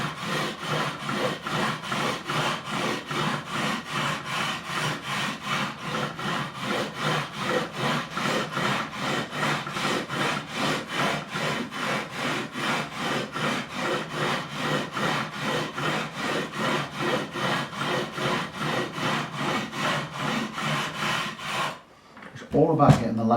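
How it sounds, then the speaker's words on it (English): A leveling beam sands across the frets of a Japanese-made Fender Strat neck in steady, rhythmic back-and-forth strokes, close and scratchy, continuing for about twenty seconds before stopping, followed by a brief thump. "let's go across now with a leveling beam and smooth it off"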